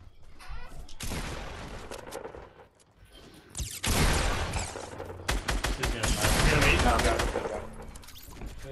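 Bursts of video game gunfire ring out in rapid volleys, with a loud sustained stretch of automatic fire and crackling shots in the second half, while a voice talks over it.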